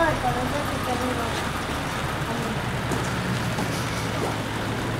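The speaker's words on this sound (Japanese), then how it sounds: "ちょっと雨が。" Steady rain falls outdoors during snow-clearing work, a dense continuous hiss of drops on surfaces with road traffic rumbling in the background and voices talking over it.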